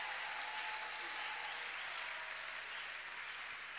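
A church congregation at a thanksgiving service applauds in a dense, steady wash of clapping that holds at full strength the whole time, with no voices standing out.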